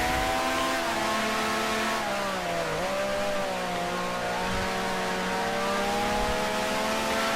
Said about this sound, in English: I'm trying to watch my RPMs a bit more closely, make sure I'm not, you know, over revving the engine.